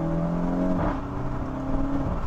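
A 2023 Volkswagen Golf GTI 40th Anniversary Edition with an aftermarket Milltek cat-back exhaust downshifts to second gear, its engine note rising and swelling into a steady close, loud rev with a brief blip midway.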